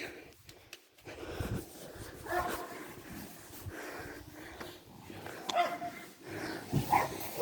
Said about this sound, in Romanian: Vezi câini aici, la gard.